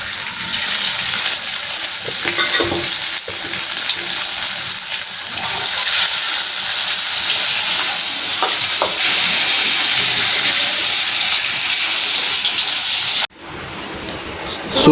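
Vaaval (pomfret) fish frying in hot oil in a pan, a loud steady sizzle and crackle running continuously for about thirteen seconds before dropping off abruptly, with faint voices in the background.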